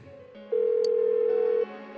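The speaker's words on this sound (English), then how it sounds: "Why won't she pick up the phone? Come on!" In Persona 4 Golden, a phone call rings out as a steady electronic tone that swells to a louder sustained note for about a second, with a brief chime over it and no speech.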